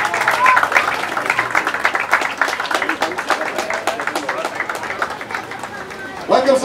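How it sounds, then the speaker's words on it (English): An audience at a press conference applauds to welcome footballer Sunil Chhetri, many hands clapping in a sustained, fairly loud burst mixed with crowd chatter and voices talking over it. "Big round of applause, everybody."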